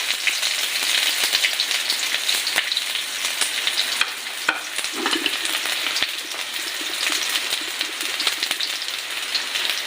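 Onions sizzle and crackle in hot oil, a dense continuous frying noise with occasional sharp pops and light stirring.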